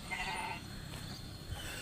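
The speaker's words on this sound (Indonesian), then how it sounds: "di sini banyak suara-suara kambing, burung, dan masih alami banget nih" Goats bleat from nearby in a quiet rural village in the morning, a short wavering call rising over soft outdoor background noise.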